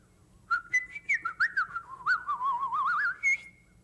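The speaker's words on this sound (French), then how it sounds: "peux siffler en faisant sortir de l'air." A person whistles by blowing air out, a clear warbling melody of quick short notes and a few longer sliding tones, close and alone over quiet background.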